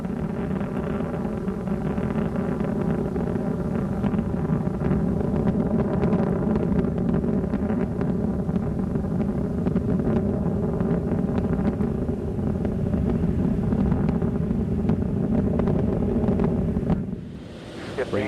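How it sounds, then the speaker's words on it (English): Space Shuttle Discovery's three main engines roaring at launch, a continuous broad, rumbling blast with crackling texture that holds steady and loud before cutting off near the end, no talk over it. "3 engines up and burning. 3, 2, 1. And liftoff of Space Shuttle Discovery"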